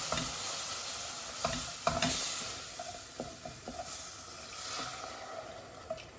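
Continuous stirring and soft sizzle as milk is poured slowly into a cooked flour roux in a pan, scraping strokes and gentle bubbling hiss close up, with no talking.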